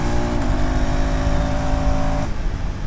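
A KTM Adventure 390 motorcycle engine revs hard under throttle while riding, a loud close whine holding steady then cutting off abruptly as the throttle closes, over steady wind and road roar.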